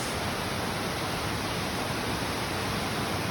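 Steady, dense rush of a waterfall in a Finger Lakes gorge, broadband and unbroken throughout, close and fairly loud with no other sounds standing out.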